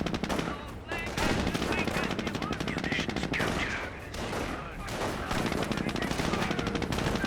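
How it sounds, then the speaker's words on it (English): A jeep's machine gun firing in a Company of Heroes battle, rapid bursts of gunfire mixed with other rattling shots and battlefield noise, loud and continuous with short dips, while a commentator talks over it. "Got a Jeep firing away as well."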